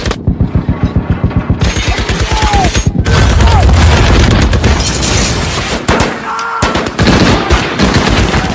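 Gunfire in a World War II war film scene with German soldiers and a tank crew: rapid, loud machine-gun bursts in an even rhythm give way to heavy booming explosions and more bursts of shots.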